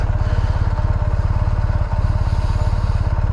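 A BMW GS motorcycle engine idles close by with a rapid, rattling pulse, its low thrum buzzing and resonating through the engine guard steadily throughout.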